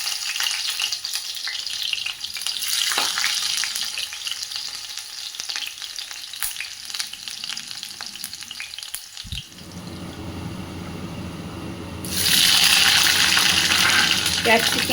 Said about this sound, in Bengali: তেলটা গরম হয়ে গেছে বলে রসুনগুলো আগে দিয়ে দিলাম।